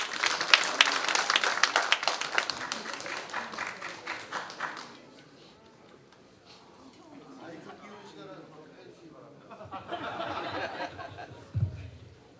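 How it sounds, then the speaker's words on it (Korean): Dense applause from a crowd at a party's joint campaign rally in Jeonju, loud and sustained for about five seconds before fading. A voice speaks over a quieter stretch, and a brief burst of clapping and thumps follows near the end. "여러분 힘찬 격려의 박수로 맞아주시기 바랍니다."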